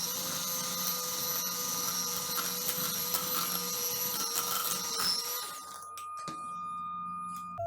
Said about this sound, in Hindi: और इसको अब हम बीट करेंगे।